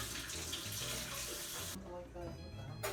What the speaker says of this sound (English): Don't forget to clean your utensils right.